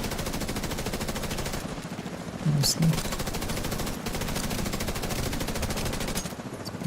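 Rapid machine-gun fire in a video game aimed at a helicopter, a dense continuous rattle of shots with brief pauses, and someone speaks a word partway through.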